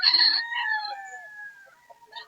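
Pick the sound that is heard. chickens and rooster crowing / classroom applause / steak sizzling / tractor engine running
chickens and rooster crowing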